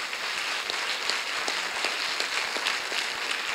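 An audience at an Italian book event featuring Alessandro Barbero applauds with moderately loud clapping, individual sharp claps standing out in an uneven rhythm over a steady bed of hands.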